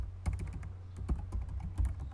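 Typing on a computer keyboard, a quick uneven run of light key clicks close by over a low hum, with no talking.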